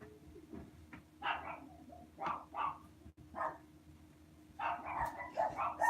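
Dogs bark in several short bursts at a distance, fairly faint, with quiet gaps between volleys and a denser cluster of barks toward the end.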